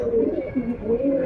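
A Golala pigeon coos in a few soft, wavering low calls that repeat steadily, close to the listener.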